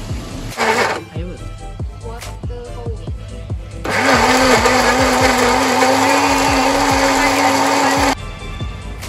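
A blender whirs loudly, grinding garlic and onions in a steady burst for several seconds, with brief motor pulses before it and voices talking underneath.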